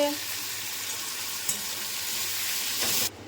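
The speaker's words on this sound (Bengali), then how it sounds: "প্রথমে ওই জন্য আলু টমেটো ভেজে নিচ্ছি" Potatoes and tomatoes fry in a pan, giving a steady, close hiss and crackle of hot oil that holds throughout, briefly stirred partway through, before the sizzle drops off abruptly near the end.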